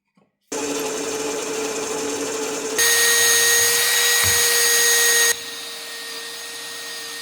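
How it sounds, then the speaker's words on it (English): Power drill boring grease nipple holes while building a chain mulcher for a Ford TW10 tractor: a steady, loud motor whine starts abruptly, steps up in pitch and intensity partway through, then drops back to a lower hum. "And now I'm going to drill that second hole here."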